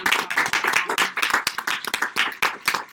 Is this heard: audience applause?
yes